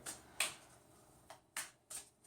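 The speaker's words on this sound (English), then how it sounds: "I'm going to put them into the deck and just keep shuffling" A tarot card deck being shuffled by hand, a few quiet, separate riffles and flicks in an irregular rhythm, close and soft against a near-silent background.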